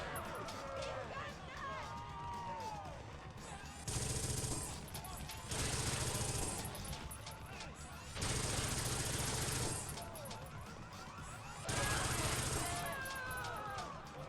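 Repeated bursts of automatic gunfire from a PS2 video game, several loud sustained volleys alternating with quieter stretches of game sounds and a talking voice in between.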